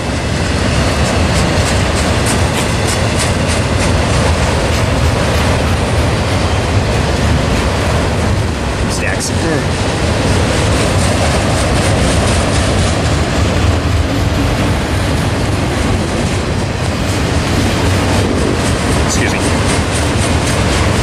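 A BNSF freight train hauling auto rack cars rolls past loudly at Tehachapi, its steady rumble and clatter filling the scene, with a voice speaking briefly over it.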